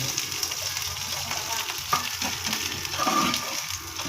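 Chicken fries steadily in a pan, giving a continuous loud sizzle and crackle with a few brief stirring scrapes, and no talking.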